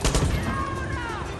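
Gunfire and an explosion ring out in the video game Far Cry 6: a loud burst of rapid shots with a booming blast fading into a ringing tail.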